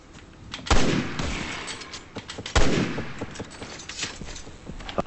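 Gunfire in Resident Evil 6 on Xbox 360: two heavy, close gunshot blasts about two seconds apart, each with a rumbling tail, followed by a scatter of lighter rapid shots and impacts.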